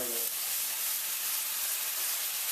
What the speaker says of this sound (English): Look, you can hear the sizzle.